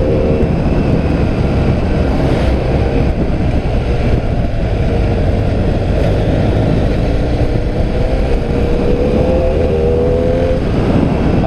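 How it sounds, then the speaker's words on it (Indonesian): A truck passes on the road near a group touring Jogja by motorcycle, its engine a steady loud low rumble throughout, mixed with constant road and wind noise. "Ada truk lagi."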